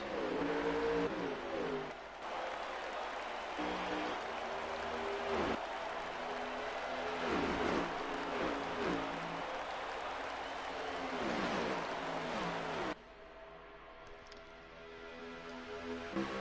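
Race car engines drone and rev continuously in a racing video game at Darlington, a loud steady roar with shifting pitch as cars pass, dropping abruptly near the end.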